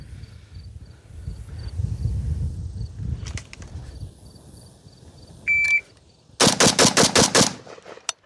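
A Galil rifle fired at a shooting range: five sharp shots in quick succession near the end, close and loud, preceded by a timer beep and some background handling noise.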